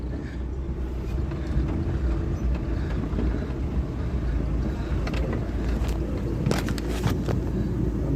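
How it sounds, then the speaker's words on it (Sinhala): A lorry riding aboard a river ferry, a steady low rumble of engine and water with wind buffeting the microphone, continuous and fairly close, with no talk. "අපි දැන් පාරුවකේ කොට යන්නේ ලොරියේ."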